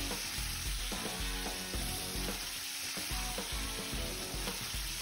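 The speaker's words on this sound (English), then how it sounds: "now I'm going to add the butter to the pan" Butter sizzles in a pan alongside a steak fillet, a steady crackling fry that holds for the whole stretch with light spattering and some clatter underneath, and no voices.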